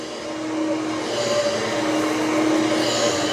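A lightweight cordless vacuum cleaner running across the floor, a steady whirring motor hum with a faint whine that swells slightly as it moves, close by and without speech.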